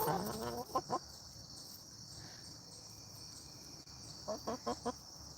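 A few soft clucks from farm chickens at the start and end, over a constant high insect-like hum of crickets, no one speaking.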